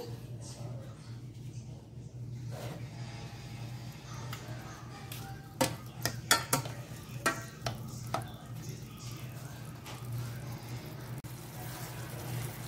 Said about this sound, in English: now we're just gonna stir this around, just like that.